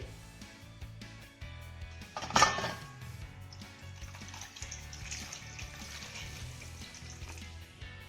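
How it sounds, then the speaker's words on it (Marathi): Potatoes being rinsed in water before cooking in a village kitchen, quiet sloshing and splashing with a louder burst of water near the start, faint and close. "सर्वात आधी आपण हे बटाटे स्वच्छ धुवून घेऊया"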